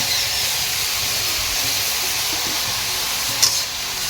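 Fried potato and eggplant pieces go into a pan of cooking leafy greens. A loud, steady hissing sizzle fills the clip, broken only by a brief knock of the spatula near the end.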